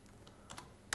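Fingers tap a web address on a PC computer keyboard, a handful of quiet, close key clicks spaced irregularly, the last one sharper than the rest.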